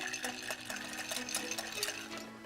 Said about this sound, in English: going to stir this ice all by itself in order to smoothen off the edges